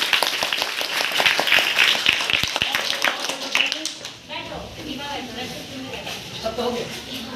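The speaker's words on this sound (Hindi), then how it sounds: "तो ताली बजाइए।" Pupils at a middle school in Motihari, Bihar, clap together at an awareness session. The brisk, close hand claps fade after a few seconds, and voices talking follow.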